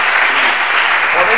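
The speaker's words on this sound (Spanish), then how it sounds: "pues un aplauso para ellos." An audience at a science talk on mathematics that looks like magic applauds volunteers, a dense, loud burst of many hands clapping close by for over a second.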